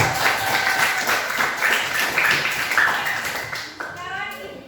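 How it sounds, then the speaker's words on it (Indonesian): Classroom students clap together in a dense, lively burst, with voices chattering over the clapping before it thins out near the end. "tepuk tangan untuk kita semua"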